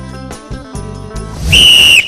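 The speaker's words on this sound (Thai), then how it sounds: "ถ้าเสียงนกหวีดอย่างนี้คุณต้องวิ่งนะครับ" A single long, shrill whistle blast, loud and close, is blown to signal contestants at a Thai competition, following a brief stretch of background sound.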